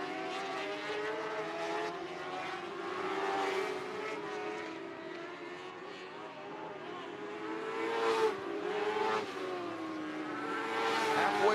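Interstate Sprint Car Series sprint cars race in a heat at Sunset Speedway Park, a continuous roar of engines rising and falling as the cars pass around the track at a distance, with a race announcer's voice heard over it.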